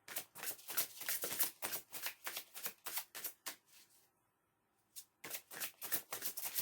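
Tarot cards being shuffled and handled close up, a rapid run of crisp flicking card sounds, a brief lull, then the quick riffling resumes.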